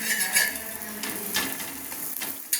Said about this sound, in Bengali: এবার আমি একে 1 চামচ তেল দিয়ে ভেজে নিচ্ছি।